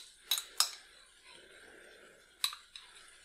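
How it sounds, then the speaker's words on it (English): A spoon stirring hot English mustard in a kitchen, heard as a few close, bright metallic clinks against a dish, in two pairs with a soft scraping lull between them. "Teaspoon of hot English mustard. And mix."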